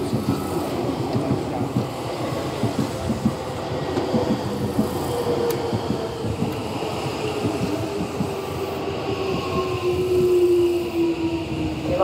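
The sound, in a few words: train arriving at station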